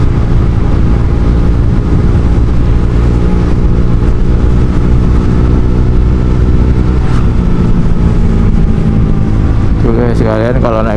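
A Honda Vario 150 scooter with a Kenziro aftermarket exhaust drones loudly and steadily at idle with a deep throbbing exhaust note, then briefly revs up near the end.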